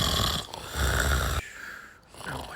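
A man snores loudly in a few heavy, rasping breaths, each a thick rattling drone with a short pause between, close and filling the quiet room.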